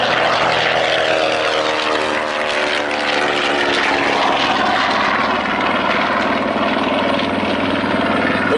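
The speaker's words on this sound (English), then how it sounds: "Now on the takeoff roll, the Grumman TBM torpedo bomber." A Grumman TBM Avenger torpedo bomber on its takeoff roll at an airshow gives a loud, continuous radial-engine and propeller roar that holds steady throughout.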